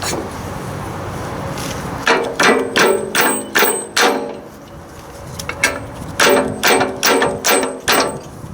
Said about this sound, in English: should have brought up my rubber hammer